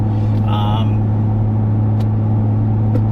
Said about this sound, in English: I can hear the exhaust now. It's an inline six twin turbo truck, but it just sounds different for a truck.